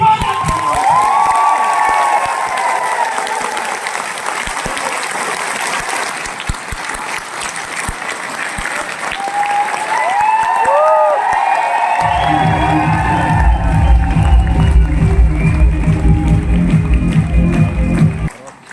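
A large audience at an event for a fast-growing team claps and cheers loudly, with whoops and shouts rising over sustained applause. In the later part, a deep, loud, steady boom of music or amplified sound joins the crowd noise.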